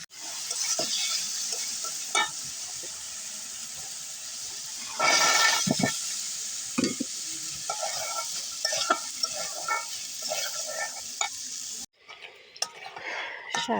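Prawns stir-frying in a pan with tomato, a steady bright sizzle with intermittent scraping and stirring clatter throughout, briefly louder midway, before cutting to quieter, sparser sounds near the end.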